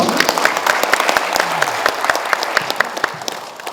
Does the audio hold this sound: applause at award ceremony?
yes